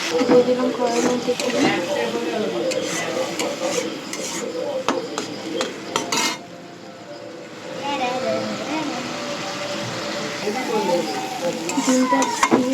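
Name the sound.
egg frying and being stirred in a wok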